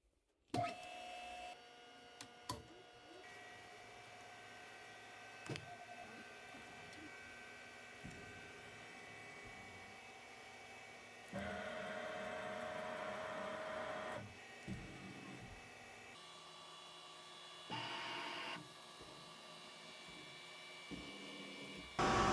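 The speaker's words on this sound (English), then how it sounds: "start up the mill and make sure everything works properly" A Fanuc CNC mill powers up and runs, giving a steady mechanical hum with whining tones, a few sharp clicks, and louder whirring surges that come and go over about twenty seconds, with no talking.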